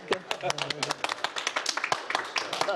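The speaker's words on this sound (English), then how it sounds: "I give you the applause. Oh, you clap too, huh?" Scattered clapping from a small audience, sharp irregular claps in a quick uneven rhythm, fairly close and moderately loud, lasting a few seconds.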